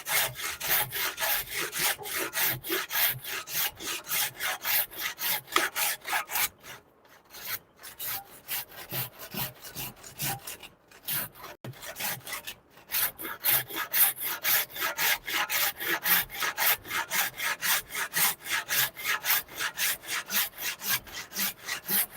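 A hand saw cuts through a wooden stick clamped down tight in a shop, with fast steady back-and-forth rasping strokes, close and loud. Two brief pauses break the run before the sawing resumes at an even rhythm.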